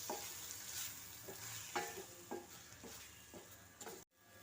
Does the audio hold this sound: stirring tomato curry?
yes